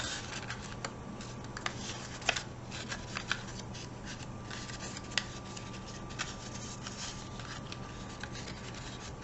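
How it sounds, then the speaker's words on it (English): Scissors cutting slits into the bottom of a paper sculpture: soft, close snips and papery rustling with occasional sharp clicks, quiet and steady under a faint electrical hum. "So I'm just going to cut some slits at the bottom."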